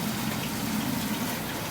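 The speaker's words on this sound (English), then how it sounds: "just smooth exit of water." Water runs smoothly out of a non-pressurized spray bar on an overhead sump filter for a 1210-gallon DIY plywood aquarium, making a steady, even flowing wash with no voices.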